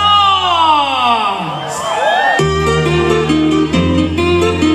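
A drunken crowd at the Plan del Vergel 2023 festival shouts, whoops and cheers loudly together, one long swelling yell followed by a sustained roar of voices.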